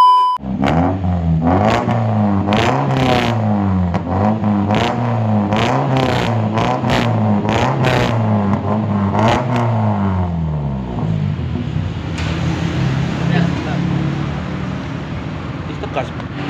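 Honda Civic Ferio with a blue stainless Spoon racing muffler, revved repeatedly in sharp rising and falling blips for about ten seconds, then settling to a lower steadier idle with hiss, close and loud.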